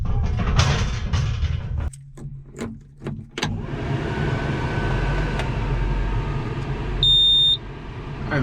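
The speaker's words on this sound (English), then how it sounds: "There's one thing I do not like about this machine is that thing beeps so loud when you crank this thing up" Loud, steady electronic beeping from a mulching machine as it is cranked up, a sustained high tone rising over heavy engine rumble, with a brief louder burst near the end.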